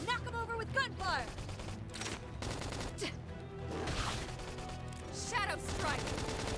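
Rapid bursts of gunfire in Xenoblade Chronicles X crackle over a busy mix of music and effects, with sharp staccato volleys at the start and again near the end.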